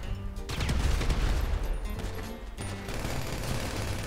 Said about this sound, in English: You can shoot him.